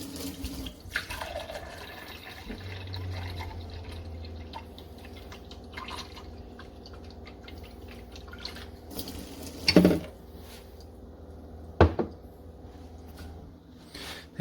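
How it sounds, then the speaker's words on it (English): Water flowing from a Frizzlife reverse osmosis alkaline mineral filter under a sink, a soft steady trickle and hum with occasional drips and a couple of sharper clunks, faint and without talk. "I wanted to give you all a demo of what it sounds like and how fast the water comes out."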